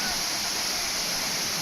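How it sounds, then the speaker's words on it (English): Twin Waterfall in Bali, a dense, steady roar of falling water heard up close, loud and unbroken with no other sounds over it. "Okay, this is a waterfall."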